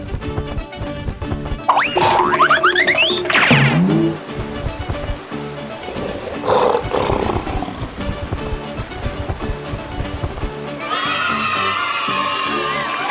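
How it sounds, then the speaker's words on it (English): A lion roars loudly in a busy animated animal transformation scene, mixed with music, cartoon sound effects and other animal cries. "Lion."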